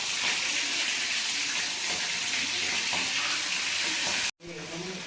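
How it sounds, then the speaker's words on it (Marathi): Pieces of lolge fish fry in hot oil as a first step for chilli, a dense steady hiss and crackle close by, cut off abruptly near the end before resuming. "आता असे फ्राय करून घेऊया आधी."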